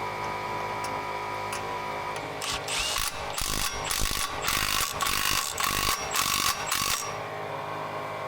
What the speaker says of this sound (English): I'm just gonna hammer it home.